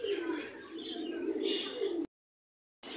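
Fancy pigeons, including an Art Angel, coo at a busy pigeon market, a close low rolling cooing with chirps over crowd noise, cut off by a brief silence near the end.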